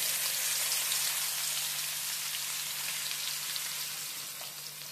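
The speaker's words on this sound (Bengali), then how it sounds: "গ্যাসের ফ্লেমটাকে মিডিয়ামে রেখে 2-3 মিনিট ভালো করে পেঁয়াজটাকে ভেজে নিতে হবে" Four large chopped onions fry in hot oil over a medium flame with whole cloves, giving a continuous, even sizzling hiss that stays close and fades slightly toward the end.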